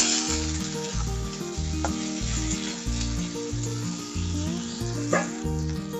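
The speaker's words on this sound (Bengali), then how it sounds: "টমেটোগুলো একটু নেড়ে নেব।" Tomatoes frying in a pan with garlic, ginger and onion are stirred, a steady loud sizzle broken by occasional scraping and clinking of the spoon against the pan, close and without talk.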